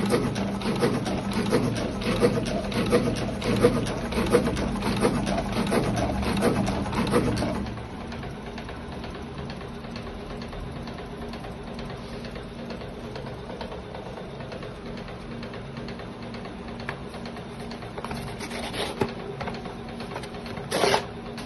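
A small filter-rolling machine works busily at close range for about seven seconds, giving a dense run of rapid mechanical clicking and whirring before dropping to a quiet hum with a few faint knocks.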